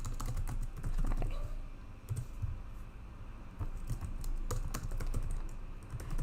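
Rapid typing on a computer keyboard, a close, steady stream of plastic key clicks in uneven bursts with brief pauses and no talking.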